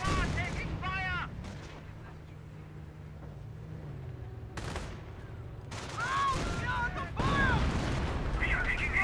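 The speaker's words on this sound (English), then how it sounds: "We are being fired upon." Bursts of gunfire and artillery from the World War II strategy game Company of Heroes crackle in rapid volleys, with booms and intermittent voices over the battle noise.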